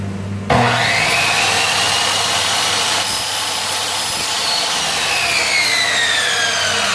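A crossbow bolt being cut for a pistol crossbow with a power saw, the blade biting steadily through the shaft and its aluminum insert weight in a loud, continuous whine that runs without a break after a sharp start.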